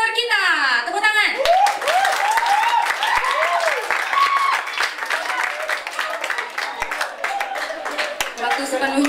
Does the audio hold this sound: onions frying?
no